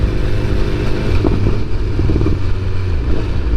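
A 2022 BMW S1000R sport motorcycle ridden on the road, its engine droning loud and steady with rumbling low tone, slight shifts in pitch and wind noise, no voices.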